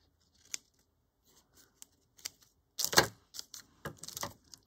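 Scissors snip through leftover ribbon while a gift bow is being finished, a few sharp close cuts spread over several seconds, with one louder crunching cut in the middle and quiet pauses between.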